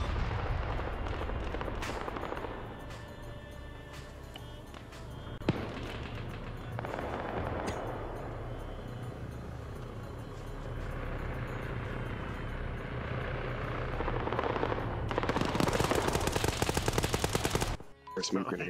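Gunfire and helicopter noise in the video game Arma 3: a dense, continuous roar of engine and battle with scattered sharp shots and a loud burst near the end, under faint radio chatter.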